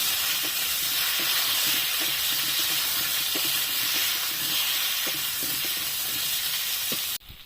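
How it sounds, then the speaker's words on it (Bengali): Cauliflower and potato pieces frying in hot oil for a boal fish curry, a dense continuous sizzle with occasional stirring clicks, cut off abruptly at the end. "এই ফুলকপি আর আলুটাকেও খুব ভালো করে আগে ভেজে নেব"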